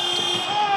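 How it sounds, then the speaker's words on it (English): A basketball game buzzer in an arena during a BCL Asia game between Taoyuan Pauian Pilots and Pelita Jaya sounds as one steady, loud, droning electronic tone held through the whole moment, with crowd and commentary noise beneath it. "Buzzer went off."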